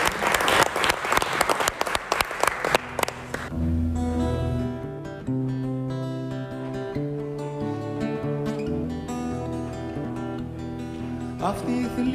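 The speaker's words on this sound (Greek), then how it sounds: "Έλα, ένα δυνατό χειροκρότημα." Loud applause from an audience at a Carnival-season party at a Greek country estate, dense clapping for about three seconds before a band strikes up and music takes over, with a brief burst of clapping returning near the end.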